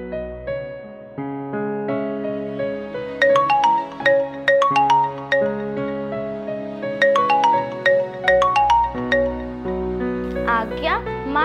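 A melodic phone ringtone plays while a call is placed in a Hindi children's drama, with short repeating chimed notes over a sustained tonal backdrop that continue steadily throughout.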